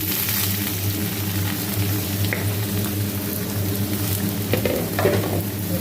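Steady, loud sizzling of onions and curry leaves frying in hot oil, with occasional stirring scrapes and crackles, no voices.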